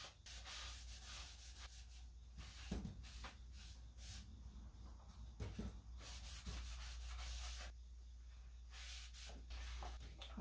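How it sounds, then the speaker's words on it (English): Cloth rubbing back and forth over a wooden farmhouse lantern, wiping excess finish off the surface in steady, close strokes with a few soft knocks. "We're going to wipe off the excess and then go from there."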